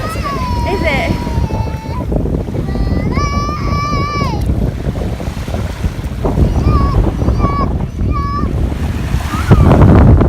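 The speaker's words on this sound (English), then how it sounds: "We're down by the beach now, as you can tell." Waves wash onto a beach on Fuerteventura in a steady surf roar with wind buffeting the microphone, while voices talk and call out over the water noise throughout.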